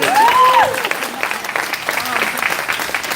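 A jiu jitsu class at a Tucson academy claps together after belt promotions, a short burst of group applause fading into scattered claps, with voices and a whistle-like tone mixed in.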